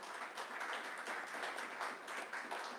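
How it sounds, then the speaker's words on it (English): A crowd at a presidential press conference gives a round of applause for local doctors. The clapping is steady and even but faint and distant, sustained throughout without a break. "I think we should give them a big round of applause"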